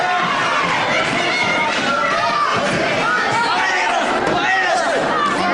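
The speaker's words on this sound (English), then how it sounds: "And a full Boston crowd for Barnes." Full Boston crowd at a boxing match, a dense roar of chatter and shouting that swells and recedes across the arena, continuous throughout.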